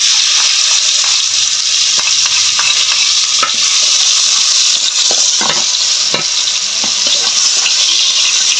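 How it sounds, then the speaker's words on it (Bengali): Onion and garlic frying in a pan for a chorchori of taro stolons and jackfruit seeds, a steady loud sizzle with scattered clicks and scrapes from stirring throughout, no voices. "তারপরে আবার পেঁয়াজটা ভাজা হয়েছে"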